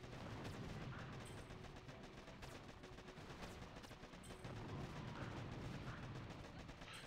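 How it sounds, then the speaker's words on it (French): Small cannons in the Boom Beach video game fire in a steady dense barrage, with rapid overlapping shots and booms sustained throughout, moderately loud within busy battle noise. "Ils sont bien ces petits canons"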